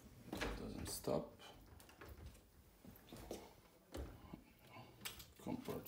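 Wardrobe drawers slide open and shut several times in quick succession, quiet knocks and scrapes with a soft voice murmuring in between.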